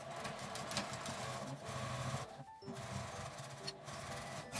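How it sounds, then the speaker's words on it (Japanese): A sewing machine runs an edge stitch about five millimetres from the edge of an insulated lunch bag, a quiet, even whirring that pauses briefly midway and then resumes. "ここは5ミリぐらいの端ミシンをかけます。"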